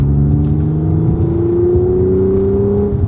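A 2013 Audi S5 engine with an exhaust system revs steadily under load in third gear, its pitch slowly climbing from 2,500 RPM as it accelerates, with a deep exhaust rumble close by throughout.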